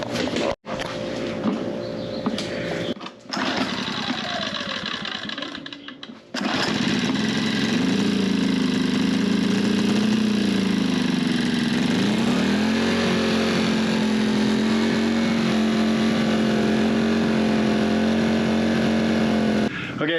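An iPower portable generator engine is started outdoors after a few pulls and brief bursts, then settles into a steady, loud, close running drone that holds evenly to the end, with a voice heard near the start.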